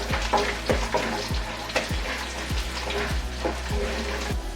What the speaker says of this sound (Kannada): ಚೆನ್ನಾಗಿ ಉರಿನ ಇಟ್ಕೊಂಡು ಕ್ರಿಸ್ಪಿ ಆಗೋವಂಥ ಇದನ್ನು ಫ್ರೈ ಮಾಡ್ಕೋಬೇಕು ಎಣ್ಣೆಲೆ